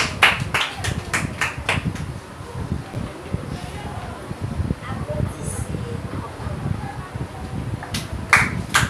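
A short burst of audience applause for Emerson, with several sharp clap bursts at the start and a brief return near the end, set against background murmur and a speaking voice.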